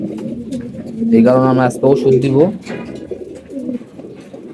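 A pigeon coos in low, rolling bursts close by, partly overlapping a man's speech.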